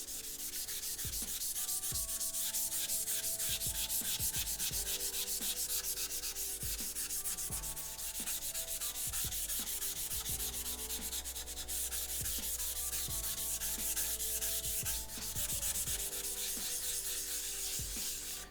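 A 500 grit whetstone is scrubbed clean with a continuous, close, gritty rubbing hiss that holds steady throughout with rhythmic strokes and no talk.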